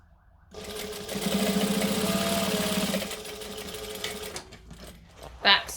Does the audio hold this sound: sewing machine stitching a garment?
yes